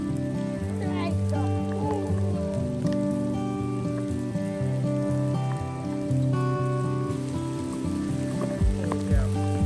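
Steady rain patters on the ground and leaves outdoors while a Heart Throb dogwood tree is planted. The continuous hiss runs under other sounds and brief snatches of voices.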